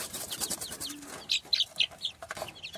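Hungry baby chicks, one hatched from a naked neck hen, peep in short, bright bursts that come near and loud in an uneven run, with scattered softer cheeps between them.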